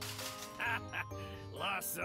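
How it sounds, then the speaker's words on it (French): Birds in the video game Bum Simulator give several short quacking calls in quick bursts, close and fairly loud, mixed with other game sounds. "il y a des oiseaux derrière"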